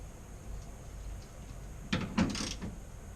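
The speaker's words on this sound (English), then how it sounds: "Bolt that back up underneath there. So, get the ratchet." A ratchet turns a bolt on a faulty fuel pump during a garage repair, giving a short cluster of quiet, close clicks near the end against a low background hum.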